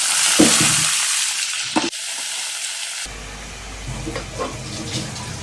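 Four onions with cumin, cinnamon and cardamom frying in hot oil and ghee for mushroom masala, a loud close sizzle broken by a few sharp stirring clacks, with no speech.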